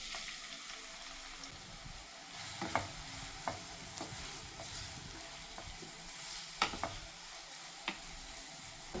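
Finely chopped onion, cloves, star anise and bay leaf fry in hot oil for an egg curry masala, a steady soft sizzle broken by occasional stirring clinks of a spoon against the pan.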